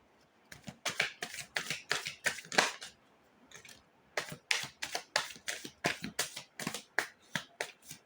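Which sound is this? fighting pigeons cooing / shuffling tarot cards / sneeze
shuffling tarot cards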